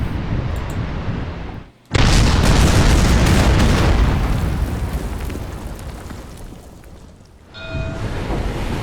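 Warship gunfire in the World War II strategy game Order of Battle, with cruisers and destroyers firing: a sudden loud boom after a brief hush, then a long rumbling roll that fades and rises again.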